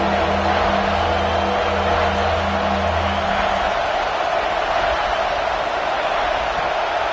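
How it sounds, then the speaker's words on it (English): Home crowd at an American football game in St. Louis roaring loudly and continuously, a dense wall of crowd noise that holds steady throughout with no clear talk over it. "how nice is it to have the home crowd going absolutely bananas?"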